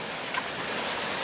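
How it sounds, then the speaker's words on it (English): Water pumps at a river pump station on the rising Mississippi run as a steady, broad rushing wash of churning water, even and continuous with no talk. "if you listen very closely, you can hear the pumps rolling."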